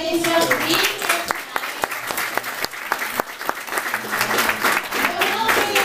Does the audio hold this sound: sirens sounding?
no